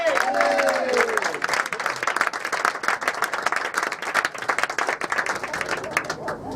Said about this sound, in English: let's start clapping, let's start clapping